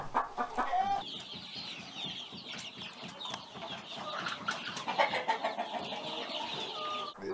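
Chickens kept at a monastery poultry farm cluck and chatter continuously, a dense overlapping flock sound that is close and busy, with no voices over it.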